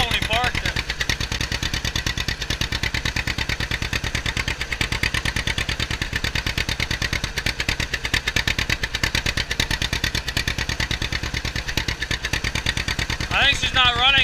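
Two-cylinder engine of a 1954 John Deere Model 60 tractor running rough after being taken off choke, producing a loud, close, steady rapid popping beat that stays continuous throughout.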